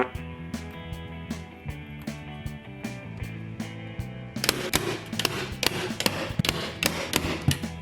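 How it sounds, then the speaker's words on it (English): A hammer drives staples flush into the back of a reclaimed wooden picture frame, a series of sharp, close taps and knocks that grow louder and denser over a steady tonal background, with no talking. "I used a hammer to hit the staples down nice and flush on the back side of the frame."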